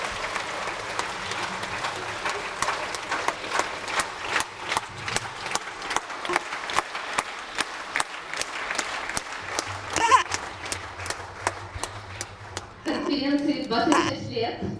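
Conference audience at an opening ceremony in Kiev breaking into applause, dense clapping from a large hall that thins into scattered claps before louder crowd noise and voices rise at the end.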